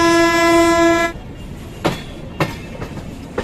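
A passenger train nearing Raxaul Junction sounds a loud, sustained horn blast for about a second, followed by sharp rhythmic clacks of wheels over rail joints, close by.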